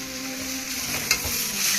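Fried potatoes being stirred into soybean masala sizzling in a pan for chole, a brief steady sizzle with one short scrape from the spoon.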